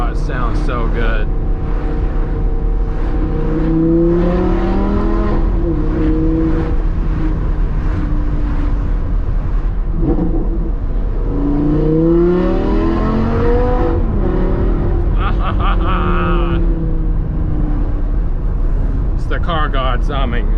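A modded mid-engine Audi R8 V10 with a loud exhaust revs and accelerates, its engine note climbing and falling in repeated sweeps from inside the cabin, with occasional talk from the driver.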